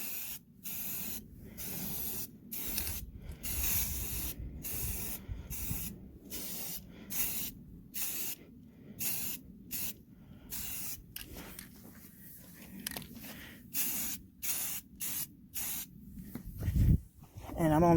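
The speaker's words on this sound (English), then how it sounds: "So we're going to do a second coat." Primer sprays onto the interior of a 2006 Jeep Wrangler in repeated hissing bursts from an aerosol can, each a second or so long with short gaps between, close and fairly loud.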